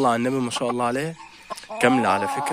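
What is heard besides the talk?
Shamo chicken clucking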